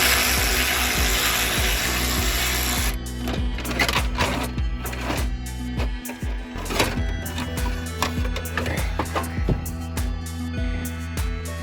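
Socket ratchet working a hidden screw loose behind a Saturn car panel, a busy run of close clicks and pawl ticks with scraping plastic over a steady low hum, no talking.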